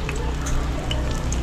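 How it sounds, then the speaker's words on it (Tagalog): Food frying in a pan, heard close as a steady, dense crackling sizzle with fine popping that continues without pause throughout. "start na tayo magprito"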